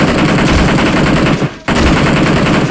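Loud, rapid automatic gunfire from the battle royale video game BGMI on the Erangal map rattles in continuous bursts, broken by one brief pause before it resumes just as intensely.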